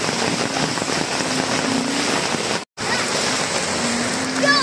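Heavy rain from Typhoon Enting pours steadily in a dense, hissing wash over a flooded neighborhood, continuous and fairly loud, broken once by a split-second gap.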